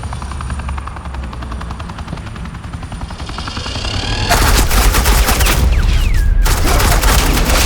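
Sustained automatic gunfire laying down suppressing fire in the video game Batman: The Enemy Within, a dense rapid rattle over a helicopter-like throb that grows louder and harsher partway through, with no talk.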